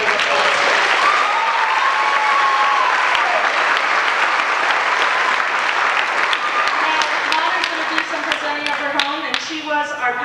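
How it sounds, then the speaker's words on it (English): A large pageant audience breaks into loud, sustained applause, a dense roar of clapping with whoops and cheers rising through it, then individual sharper claps emerging near the end. "So I ask that you give him a big, big round of applause."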